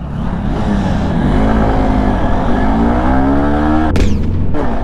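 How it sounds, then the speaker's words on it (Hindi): A Honda SP 160 motorcycle launches at full throttle in first gear, its engine note loud and close, climbing steadily in pitch before a sudden shift near the end. "इसको करेंगे अपन लॉन्च कि पहले गियर में कितना आएगी। तो let's see, then full throttle."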